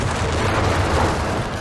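A German 88 anti-tank gun fires at a Hellcat tank in the strategy game Company of Heroes 3, a dense, loud rumble of battle that holds steady through a very short stretch.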